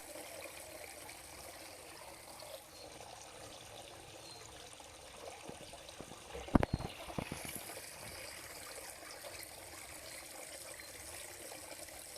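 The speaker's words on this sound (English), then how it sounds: "keeping the small waterfall flowing" A small garden waterfall trickles steadily into a koi pond, soft and continuous, with a brief louder burst of splashing and clatter midway before settling back to the quiet flow.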